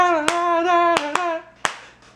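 Four sharp hand claps mark out a beat while a voice hums a melody, imitating a song; the claps are close, loud and spaced unevenly under the sustained humming.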